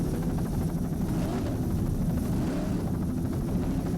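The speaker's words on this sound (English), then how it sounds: "Factor helicopter shot" Helicopter filming an offshore powerboat race at Chicks Beach, following a 29-foot Fountain: a steady, loud low rotor and engine drone with dense rumble, continuous and unbroken throughout, no voices.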